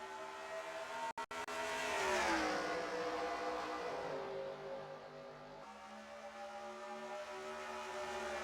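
Several race car engines in the NR2003 stock car racing game rev up and accelerate together on a restart at Hillside, a loud, continuous multi-engine roar that rises in pitch and shifts between gears, with no talking.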